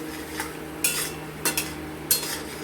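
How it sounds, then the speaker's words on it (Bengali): Masala for a hilsa fish curry with ash gourd is stir-fried in a pan, with a low sizzle and three or four clear scrapes and clinks of the spatula, and no voices. "এবার এটা কষে নেব ভালো মতো"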